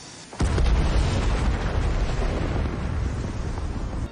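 A grenade explodes in a World War II film battle with German soldiers, the sudden loud boom hitting after a brief lull and rolling into a long, dense rumble that slowly fades.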